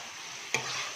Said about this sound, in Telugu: బాగా కొంచెం ఆయిల్లో ఫ్రై చేయనివ్వండి.